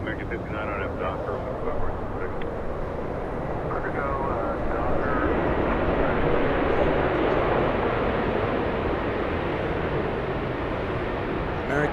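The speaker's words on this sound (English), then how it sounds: "American 1671 flying in from Vegas, and I think you're hearing it slow down." An American Airlines jet arriving from Las Vegas rolls out after landing at LAX, a broad steady roar of engines and rushing air that holds loud and continuous as the plane decelerates on the runway.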